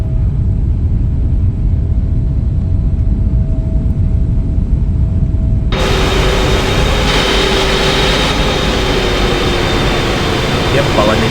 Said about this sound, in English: Huge aircraft coming in right now.